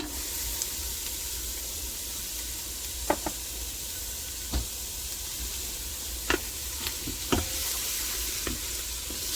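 Onion sautéing in an Instant Pot gives a steady, close sizzle and hiss, broken by occasional light clicks and scrapes of stirring.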